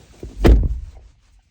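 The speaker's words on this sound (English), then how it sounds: "Let's close the door." A single solid thunk of a 2016 Chevy Equinox car door shutting, close by, followed by a brief rattle and then quiet.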